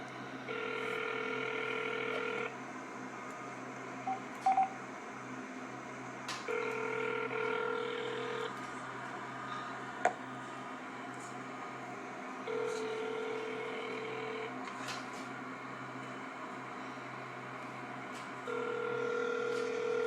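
Telephone line tones sound during a call placed to an attorney: long, even tone bursts repeat about every six seconds in a ringing pattern over a faint steady hum.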